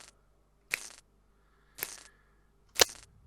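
Scissors clip a wire fence in the video game Mystery of the Druids: three sharp, separate snips about a second apart, each a crisp metallic crunch with a short tail, alone against near silence.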